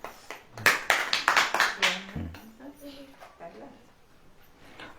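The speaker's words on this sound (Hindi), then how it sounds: "ताली बजाइए, ताली" Members of a church congregation clap their hands at a prayer meeting, a quick burst of about a dozen sharp claps that dies away into people talking.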